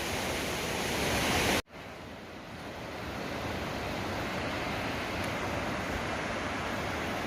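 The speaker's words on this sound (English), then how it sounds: "It's a massive waterfall over there." Massive waterfall at Steels Creek, North Carolina, heard as a loud, steady broadband roar of rushing water with no talk, briefly dipping at one point before resuming its constant wash.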